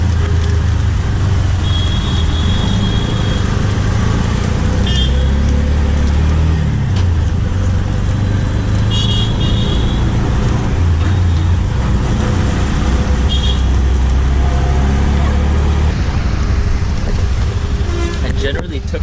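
Busy Indian street traffic rumbles close by from inside a stuck tuk-tuk, with idling engines, a few short horn toots, and voices talking over the din.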